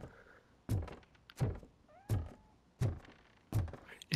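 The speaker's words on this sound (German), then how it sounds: "Da ist die Katze laut." Loud cat meows repeat at a steady pace in a police shooter game set in a grimy city, five sharp cries spaced under a second apart against near silence.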